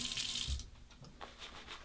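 A quick burst of running tap water wets a shaving brush, a short close splash that gives way to faint drips and light handling noises.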